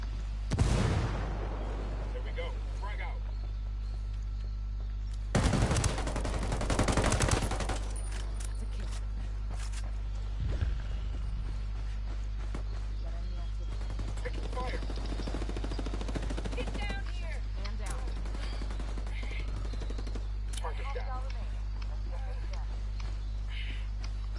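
Gunfire in the video game Ghost War comes in loud bursts near the start and middle of the round, then sparse shots over a steady background hum while players talk.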